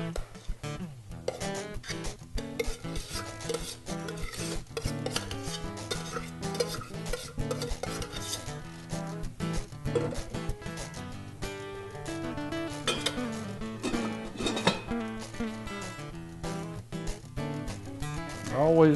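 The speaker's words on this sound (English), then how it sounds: "let's spoon this stuff up, see how it came out" A spoon scrapes and clinks as wild turkey stew is ladled into a serving bowl, with repeated metallic taps and wet scooping sounds at close range, mixed with faint background noise.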